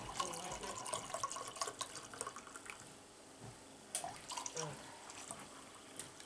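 Alcohol runs and splashes into a container in short bursts, with clinks and faint voices in the background.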